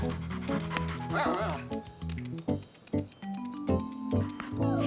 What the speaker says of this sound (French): grand-mère gardait Bobichon, le chien préféré de Caillou